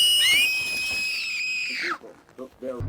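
A shrill, sustained scream rises and holds for about two seconds, then breaks off, followed by short voiced sounds.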